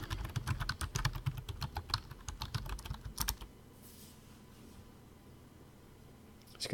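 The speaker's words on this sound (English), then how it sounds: "I'm typing it out so it goes by faster." Rapid typing on a computer keyboard, dense close clicking for about three seconds, then stopping into quiet room noise.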